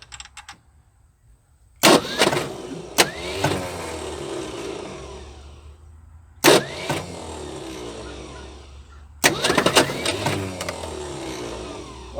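A 1976 Ford F150 pickup, abandoned for decades, cranks in repeated starter bursts with sharp clicks between them, loud and close, each burst grinding on for a few seconds without catching.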